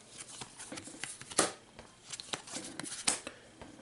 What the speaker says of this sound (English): So I'll draw 5 cards.